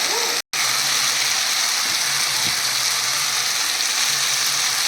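Shredded cabbage drops into hot oil for a vegetarian cabbage ghonto, setting off a loud, dense, continuous sizzle that hisses on evenly after a brief cut at the start.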